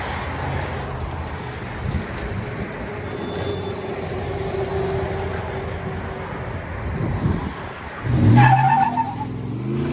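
A Toyota Tundra with a 4.7L V8 and aftermarket Borla or Magnaflow exhaust idles with a steady low rumble, then gives a louder rev near the end.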